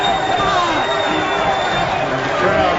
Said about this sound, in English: And the crowd cheering on their team